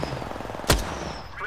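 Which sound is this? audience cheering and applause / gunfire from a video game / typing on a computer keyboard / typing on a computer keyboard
gunfire from a video game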